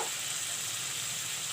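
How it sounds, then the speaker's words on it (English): Ground masala with turmeric and chili powder fries in hot oil, giving a steady close sizzle that holds evenly throughout with no voices. "And let the masala fry nicely."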